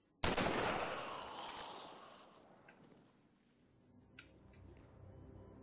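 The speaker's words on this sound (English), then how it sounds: "Should we see what happens when I shoot it?" A single sharp gunshot cracks out in the video game Walking Dead: Survival Instinct, followed by a long fading echo and a few faint metallic clicks afterward.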